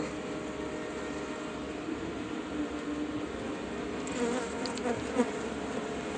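Honeybees buzzing during a November hive inspection of Buckfast and Carniolan colonies, a dense continuous hum close by with a few individual bees passing nearer toward the end.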